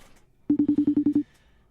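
A telephone ringback tone pulses in a quick, steady run of about nine even beeps, close and fairly loud, then stops, with no voices over it.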